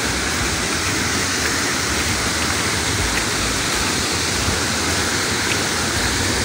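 A river near Puray Falls in Montalban flows with a steady, loud, broad rushing wash that stays constant throughout, with no talking.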